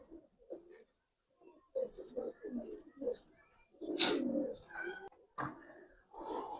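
Old-breed Giribaz pigeons, silver and pankhi types, coo at close range in soft, throaty bursts that come and go with short pauses between them.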